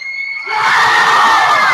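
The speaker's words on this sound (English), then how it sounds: "the Sanchez crowd is now cheering MVP" A boys' high school basketball championship crowd erupts into loud, sustained cheering and shouting, swelling from a thin tonal opening into a full, close roar.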